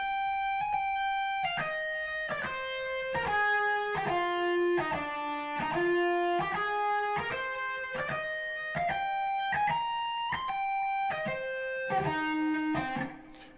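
An electric guitar plays a lick in a long-short rhythm, lightly distorted single notes climbing and falling in uneven paired steps, clear and close, with no talking over it.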